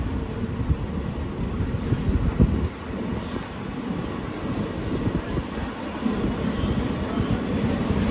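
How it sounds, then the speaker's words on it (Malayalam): A passenger train pulls out of Payyanur station at 6:18 on the Kannur to Cheruvathur run, its steady low rumble and rattling wheels loud and continuous, with wind rushing over it and no talk. "6:18 പയ്യന്നൂരിൽ നിന്ന് ഇതാ ട്രെയിൻ എടുത്തിരിക്കുകയാണ്"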